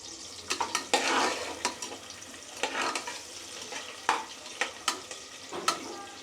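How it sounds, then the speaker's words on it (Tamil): Small onions and curry leaves sautéing in a pan for a village-style mutton gravy, with a soft continuous sizzle broken by repeated scraping stirs of a spoon against the pan, close and moderately loud, with no talking. "இப்போ வந்து வெங்காயம் வந்து பொன்னிறமாக வதங்கிருச்சு"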